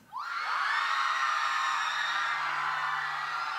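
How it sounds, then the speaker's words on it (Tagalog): A crowd at a live performance lets out one sustained loud shout together on a count of three, a single swelling roar of cheering and whooping that holds steady at full volume throughout. "sigaw tayo on three."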